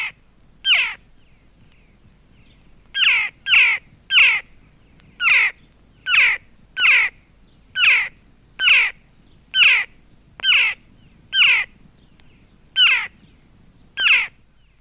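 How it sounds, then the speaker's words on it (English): A single young jackdaw repeats a harsh, cawing call about a dozen times at a fairly even pace, close and loud against a quiet woodland background. "The cry of a single young jackdaw is often the most familiar of July woodland sounds."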